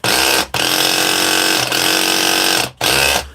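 A loud, steady high-pitched mechanical whine of a faulty hammer drill running in hammer mode, cutting out briefly twice before starting again.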